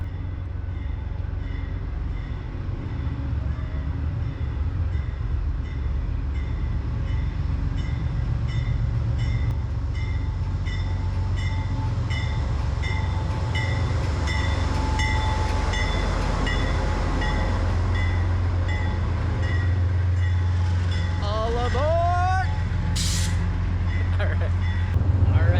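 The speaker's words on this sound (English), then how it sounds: "I love taking the train." Steady rumble of a passenger train underway, with rhythmic clicking of wheels over rail joints and a brief squeal near the end, heard from inside the carriage as people talk in the background.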